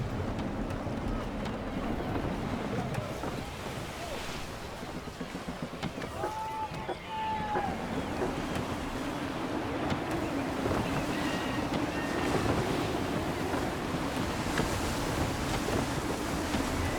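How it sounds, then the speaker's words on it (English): Gusty wind and crashing waves roll steadily around a sailing ship in Assassin's Creed 3, a continuous rushing roar with occasional water splashes, alongside faint game sounds. "Wind looks to be shifting. Stay alert, Connor. Gusty winds can be difficult to manage."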